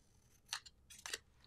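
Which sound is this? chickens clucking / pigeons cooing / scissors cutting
scissors cutting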